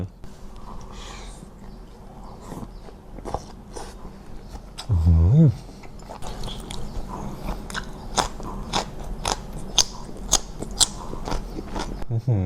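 Close, crisp crunching bites and chewing of crunchy pork skin in a spicy Thai salad, crackly snaps scattered across the clip, with one louder low burst near the middle.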